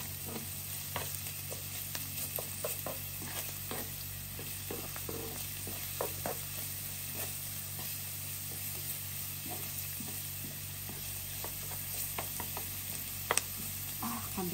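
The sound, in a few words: frying onion and garlic in a pan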